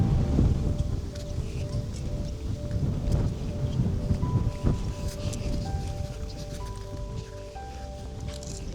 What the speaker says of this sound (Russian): Как всегда, сильный ветер.